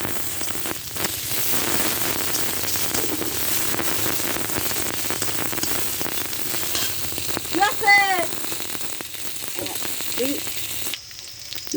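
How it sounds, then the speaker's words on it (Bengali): Onion and garlic fry in rendered desi chicken skin fat with a little oil, giving a loud, steady sizzle and crackle. Brief squeaky clinks rise near the end. "যে পেঁয়াজ রসুন ভাজা হয়ে গেছে"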